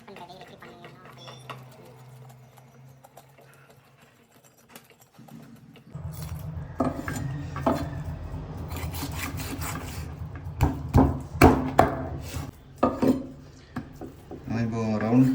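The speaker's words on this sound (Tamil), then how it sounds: "எப்படி கட் பண்ணுறது, எப்படி பண்ணணும்." Knife cutting through a Neduva (ma oola) fish, with chopping and scraping strokes growing louder and busier in the second half, close by and layered with background activity and a low steady hum.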